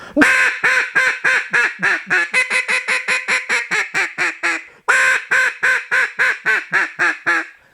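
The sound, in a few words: duck call imitating ducks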